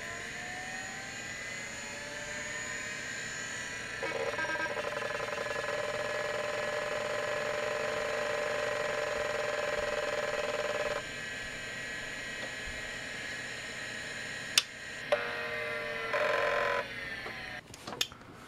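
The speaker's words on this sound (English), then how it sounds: "Thought it'd be interesting to compare the difference in the sound of these two drives." A Seagate ST251 hard disk drive hums at a steady high whine, with a tonal shift partway through and a few sharp clicks and bursts near the end, heard up close with no speech.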